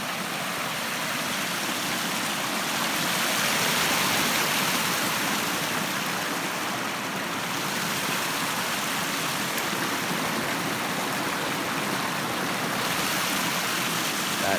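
Steady rushing water from a small stream near a waterfall in Upstate New York, constant and fairly close, with no voices.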